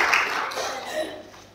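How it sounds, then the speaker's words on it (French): Church congregation applauding during a worship service, with a burst of clapping that fades out over about a second and a half under a voice. "Et merci, on applaudit le Seigneur."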